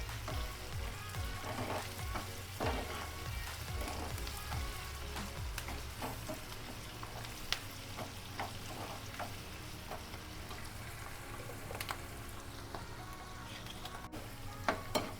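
Onions frying in a pan until lightly pink, a soft continuous sizzle with scattered crackles and occasional stirring scrapes, faint and steady throughout.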